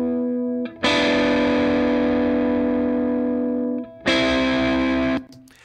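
A high electric guitar part runs distorted through an amplifier, with a high-pass filter set well up after the amp to strip low end. Two long sustained notes ring out loud and bright, separated by a brief gap.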